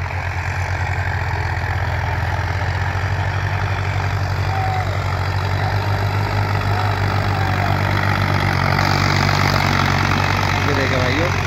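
Tractors running in a field during a tiller and rotavator demo, a VST Shakti 9054 against a Farmtrac 60: a loud, steady engine drone holds without a break for the whole stretch.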